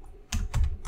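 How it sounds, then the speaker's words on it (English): Typing code on a computer keyboard: three crisp keystrokes in an uneven rhythm, close and clear, with no voice. "So I'll type return"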